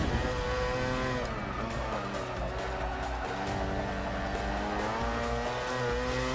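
The 1991 Mazda #62 Mazda Motorsport RX-7 race car in Forza 6 gives a loud, constant, buzzing engine drone whose pitch climbs and dips as the revs change through shifts.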